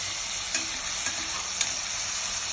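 Two small onions fry in a hot pan, giving a continuous close sizzle with a few faint clicks from stirring and no speech.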